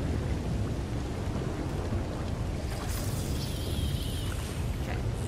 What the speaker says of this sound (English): Oh, it's about to rain.